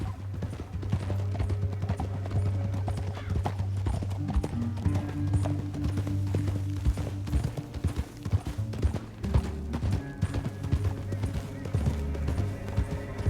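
Horse hooves clatter in a fast galloping rhythm in Red Dead Redemption 2, blended with music and other game sounds throughout, fairly loud and continuous.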